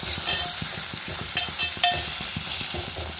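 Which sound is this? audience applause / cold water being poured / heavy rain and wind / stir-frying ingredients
stir-frying ingredients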